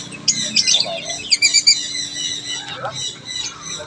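A pet pineapple conure, a female parrot, gives a burst of shrill, chattering calls and squawks close by, with a quieter human voice briefly underneath.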